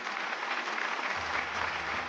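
Steady, dense applause from a studio audience after a sung performance on a Malayalam TV game show, loud and continuous throughout with no talk over it.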